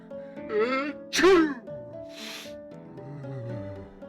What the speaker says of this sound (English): I just recorded myself sneezing, or fake sneezing